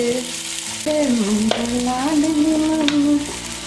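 Fish frying in a hot pan, a continuous close sizzle and crackle with a steady wavering tone running alongside it, and no voices.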